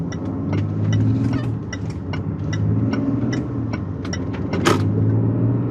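Steady engine and road rumble inside a 2020 Land Rover Range Rover HSE on a test drive, with low drone throughout, recurring faint ticking like an indicator, and a brief sharp click near the end.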